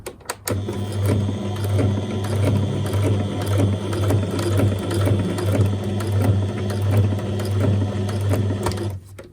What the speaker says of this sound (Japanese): 2センチぐらい直に折り返したここの地点に向かってまっすぐ縫っていきます